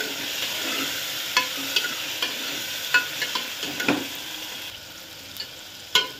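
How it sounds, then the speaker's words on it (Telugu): Chopped tomatoes fry in hot oil in a pan for sambar, giving a steady, soft sizzle broken by occasional clicks and scrapes of stirring. "ఆ టమాటాలు వేసి బాగా 2 నిమిషాల పాటు నూనెలో మగ్గించుకోవాలి."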